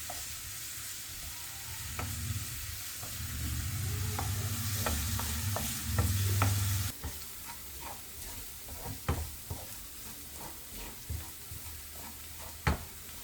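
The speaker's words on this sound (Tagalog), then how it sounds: "Tapos, iba-brown lang natin yung ating garlic." Garlic browning in oil, a continuous soft sizzle with intermittent spatula clicks and scrapes against the pan, fairly quiet and close, no talking.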